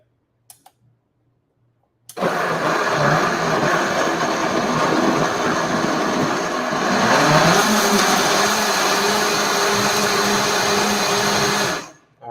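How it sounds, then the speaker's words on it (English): After a couple of quiet seconds, a blender starts with a loud, steady whirring roar that runs for about ten seconds, shifts pitch midway, then cuts off. "we're going to add these items into the blender, and then we're going to kick it up"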